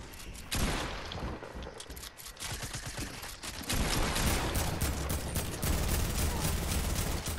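Dense gunfire in Fortnite, rapid rattling bursts running almost nonstop at moderate loudness, with a brief lull before the shooting swells again.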